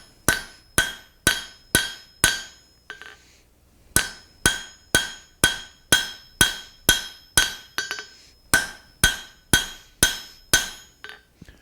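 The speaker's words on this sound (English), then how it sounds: "we've got angle on the hammer, and also I'm lifting this rod to make sure that I'm making contact with the anvil" A blacksmith's hammer strikes a hot rod on an anvil while forging a taper, ringing metallic blows in quick steady bursts of about five, with short pauses between the sets.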